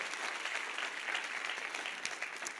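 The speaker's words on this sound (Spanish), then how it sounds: "Dale fuerte ese aplauso al que merece ser adorado" A church congregation claps together in worship, a brief, even burst of dense clapping heard at moderate distance, with no voices over it.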